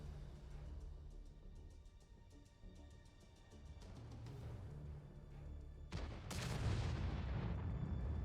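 Tank cannon fire in the console game World of Tanks during a competitive match: a few booming shots and blasts over battle din, with heavier rumbling impacts toward the end.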